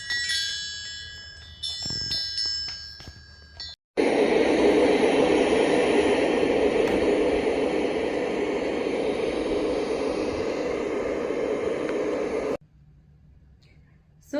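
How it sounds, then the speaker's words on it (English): A portable Bluetooth white noise machine plays a steady, loud hiss for several seconds, cutting in abruptly after quieter tones and stopping just as suddenly. "So this white noise machine is really great."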